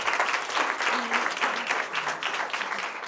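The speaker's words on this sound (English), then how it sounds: "let's have a round of applause" Audience at a presentation giving a round of applause, a dense, steady wash of many hands clapping that fills the room evenly from start to finish, with a voice briefly audible underneath.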